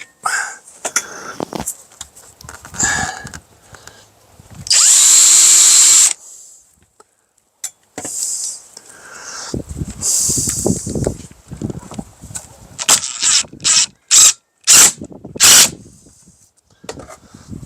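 A power drill drives 1-inch Torx head screws into wood during a single-wide mobile home rot repair, with several loud whirring bursts of varying length separated by short pauses and handling clatter.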